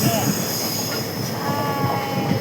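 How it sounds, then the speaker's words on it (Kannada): A train rolls past nearby on rails, a loud steady rumble with high metallic wheel squeals drifting in and out. "ಎಲ್ಲ ಟ್ರೈನ್ ಹೋಗ್ತಾ ಇದೆ."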